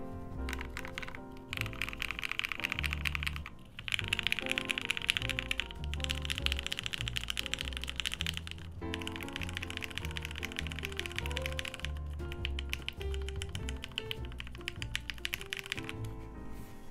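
Typing on a TGR Jane V2 mechanical keyboard fitted with lubed Tealios switches, steady bursts of keystrokes with brief pauses, heard under loud background music with no talking.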